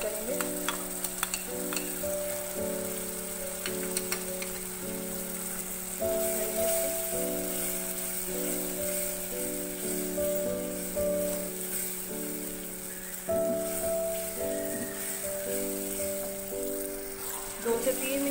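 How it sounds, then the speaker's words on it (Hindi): Ground spices (coriander powder, red chilli and salt) fry in a pan over a medium flame, giving a steady, dense sizzle broken by repeated stirring scrapes against a sustained tonal musical background. "दो से तीन मिनट मैंने मसाले को भूना है मीडियम फ्लेम पे"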